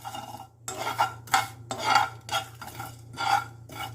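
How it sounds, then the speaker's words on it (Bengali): Whole spices, including mace, dry roasting in a pan, stirred in rhythmic scraping strokes about twice a second, close and fairly soft. "এবার এগুলোকে রোস্ট করে নেব বা শুকনো ভেজে নেব।"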